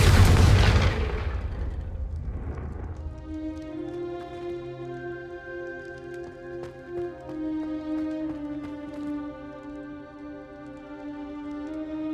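A Confringo fire spell in Hogwarts Legacy bursts with a loud booming explosion that decays over a few seconds into a quieter tonal musical hum.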